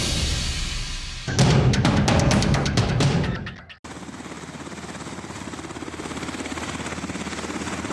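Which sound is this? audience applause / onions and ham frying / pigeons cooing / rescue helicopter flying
rescue helicopter flying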